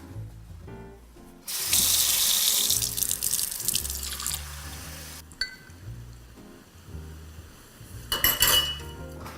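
Water runs from a tap in a steady stream, with dishes and utensils clinking nearby; a second, shorter gush of water follows after a pause as water fills a measuring cup in a kitchen.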